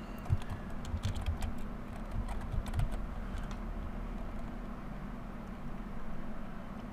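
Typing on a computer keyboard while entering metadata fields in camera control software, a steady run of light key taps that clusters in the first three seconds and then thins out, close and fairly quiet against a low background hum.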